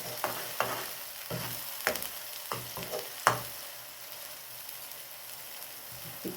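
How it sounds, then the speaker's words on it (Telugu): Masala fries until golden brown in a pan for a jackfruit curry, a low steady sizzle broken by repeated sharp spatula scrapes and stirring knocks nearby. "కొంచెం గోల్డెన్ బ్రౌన్ అయ్యే వరకు ఇలా వేయించుకోవాలి మసాలా"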